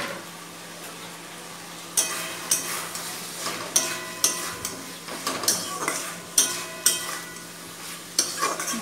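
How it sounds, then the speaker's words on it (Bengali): Fried pointed gourd stirred into a shrimp curry in a pan, sharp clinks and scrapes of a spatula in an irregular rhythm over a soft, continuous sizzle, close up. "এবার আমি ভেজে রাখা পটলগুলো এর মধ্যে দিয়ে দেব।"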